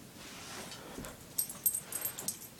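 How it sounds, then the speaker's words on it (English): A dog whimpers nearby in a few soft, high-pitched whines and yips over quiet background noise. "My dog."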